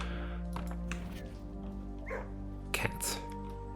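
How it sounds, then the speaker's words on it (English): A dog in the video game Blue Prince lets out a couple of soft barks and whimpering yips, with a voice speaking over parts of it. "Good dog."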